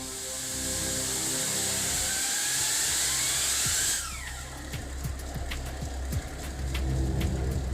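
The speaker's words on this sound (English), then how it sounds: "The mega diesel engine springs to life for the first time." A mega diesel engine turns over and fires up for the first time, a loud continuous roar with a rising whine, then shifts into a steady rumbling run with clattering transients, with no talking.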